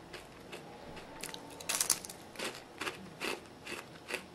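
Something crunchy that tastes like bacon is chewed close by in a few quiet, irregular bites, with crisp crackles between soft pauses.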